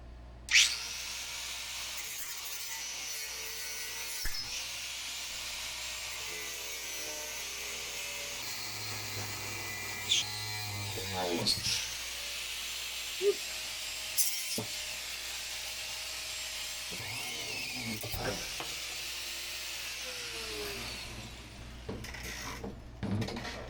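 An angle grinder cuts out old fittings aboard a boat, a steady loud whine running almost continuously with pitch rising and falling as the disc bites, briefly easing off near the end.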